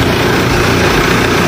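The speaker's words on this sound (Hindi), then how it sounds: "महिंद्रा ट्रैक्टर।" A Mahindra tractor engine runs on an Indian farm, giving a loud, steady, continuous low rumble with no break and no voices.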